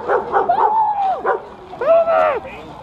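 A person imitates a dog with a series of yips, whimpers and barks, close and loud, in short bursts with gaps between them.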